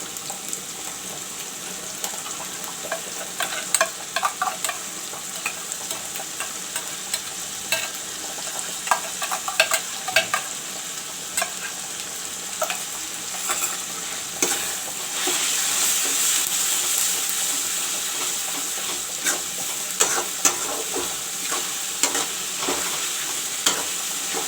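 Garlic paste frying among browned onions for a chicken curry gives a steady close sizzle, with repeated scraping stirs of a spoon against the pan and occasional louder clacks throughout.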